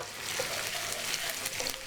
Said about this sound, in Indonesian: Sekarang saya masukkan cabenya. Masak sampai cabenya layu ya, atau sekitar 20 detik.